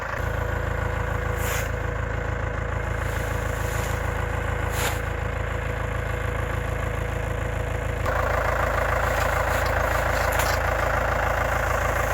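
A tractor engine idles steadily and loudly at close range during wintry conditions in Alaska, a constant low rumble that grows slightly louder partway through, with faint knocks and thuds from sandbags being loaded.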